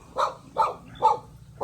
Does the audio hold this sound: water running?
no